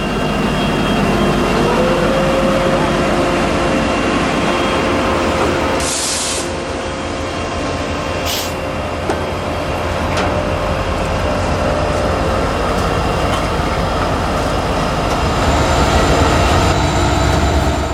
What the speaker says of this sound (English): 2 GE and 2 EMD locomotives.